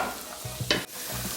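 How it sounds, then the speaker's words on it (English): Broccoli and bacon sauté in a skillet with onion powder while being stirred, giving a soft steady sizzle with a few close scraping stirs, quiet and without talk. "I'm going to give that a good stir, and I'm going to continue sauteing this for about 1 minute"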